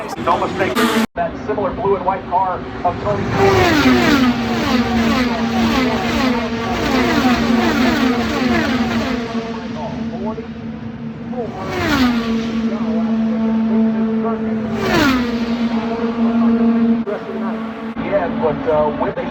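IndyCar race cars scream past at Texas Motor Speedway, several high-pitched engines rising and falling as each car passes, with loud commentary over the racing throughout.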